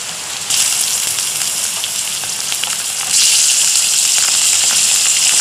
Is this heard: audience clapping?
no